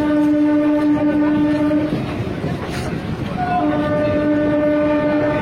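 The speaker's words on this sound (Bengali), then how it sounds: "আমাদের ট্রেন এখন ব্যারাকপুর স্টেশন থেকে ছাড়লো।" A local commuter train pulls out of Barrackpore station on the Sealdah–Kalyani line, its steady loud rumble carrying a sustained horn tone that cuts out midway and resumes near the end.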